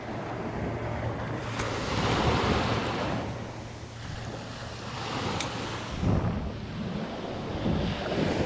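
Sea waves wash and break along a coast after rain while gusty wind buffets the microphone, the surf swelling and receding in a loud, continuous roar.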